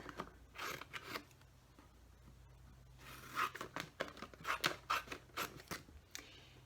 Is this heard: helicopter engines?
no